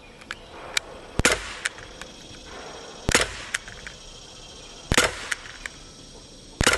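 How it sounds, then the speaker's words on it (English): Daisy Powerline 5501 CO2 BB pistol firing Umarex steel BBs, heard as several sharp, separate cracks spaced a second or two apart, loud and close, with a faint tick of the BB striking the target after some shots. "Let's see if the Umarex Steel BBs will shoot better than that."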